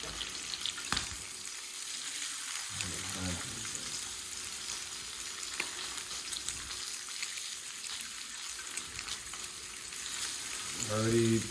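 Bacon and sausage sizzle steadily in a non-stick pan, a soft continuous crackle with occasional clinks and scrapes of a utensil, plus a short burst of clatter near the end.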